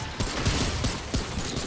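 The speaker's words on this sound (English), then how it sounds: "I'm literally getting shot" Rapid gunfire in the video game Remnant II, a dense burst of repeated shots rattling over a loud, busy background for under two seconds, with no talking.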